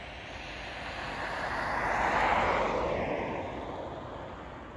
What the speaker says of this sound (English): See a plane there.